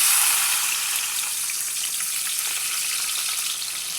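Onion pieces sizzle steadily in hot oil in a home kitchen pan, a dense, even hiss that stays close and fairly loud throughout, with no talking.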